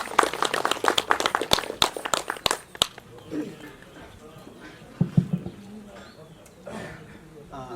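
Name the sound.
applause for speaker Krishna Bahadur Kunwar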